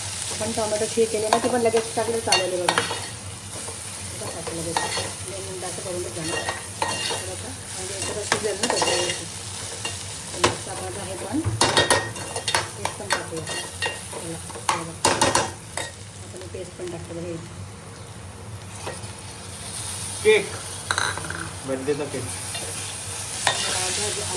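A potato and paneer mixture stir-fried in oil in a pan, with continuous sizzling and repeated loud scraping and clanking strokes of a spoon over roughly two dozen seconds.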